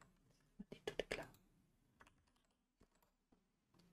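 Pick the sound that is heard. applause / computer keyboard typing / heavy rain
computer keyboard typing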